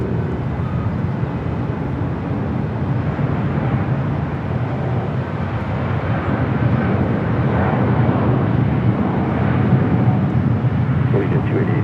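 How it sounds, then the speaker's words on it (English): A Boeing 747-8 freighter takes off at LAX with a broad, roaring jet rumble that swells steadily toward the end, heard from a distance under speech. "747-8 freighter is taking off to Luxembourg, flight 244."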